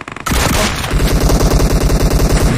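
Rapid gunfire from a PUBG match, a fast rhythmic string of sharp loud shots following a few quick opening pops, close and dominant with no talk over it.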